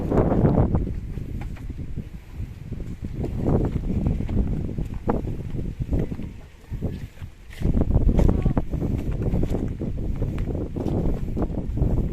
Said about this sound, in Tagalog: Tapos bundok dito, malakas yung hangin.